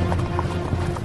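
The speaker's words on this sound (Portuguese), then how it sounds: "Então Naama foi com os seus cavalos e carros" Horses' hooves clip-clopping steadily alongside chariots in an audio drama scene, a dense run of close, rhythmic hoof strikes with no talk over them.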